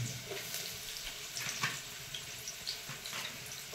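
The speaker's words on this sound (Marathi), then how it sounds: "कांद्याला फोडणी." Chopped onion is tempered in hot oil for a Konkan village crab curry. It gives a faint, steady sizzle and crackle with a few soft spikes, heard alone without speech.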